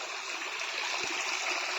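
Steady rush of stream water flowing along a small rural channel, a continuous broadband wash with no pauses, fairly close and even in loudness.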